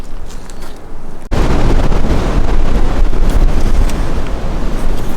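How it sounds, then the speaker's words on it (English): Strong wind gusts outdoors while an archery target stand is being built and posts are set in concrete. The wind buffets the microphone, quieter at first and then a sudden loud, sustained rush of roaring noise that continues to the end. "Man, it's windy out."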